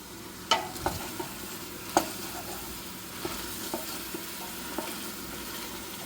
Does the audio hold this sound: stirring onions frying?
yes